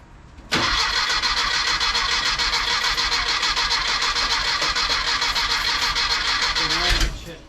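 A rebuilt car motor firing on only one side cranks continuously for about six and a half seconds, a loud, fast, even whirring starter drone that cuts off abruptly at the end, without catching to a proper idle.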